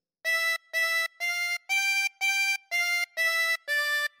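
Eight evenly spaced harmonica notes carry the opening phrase of Ode to Joy, each a clear sustained reedy tone with brief gaps, played alone and close.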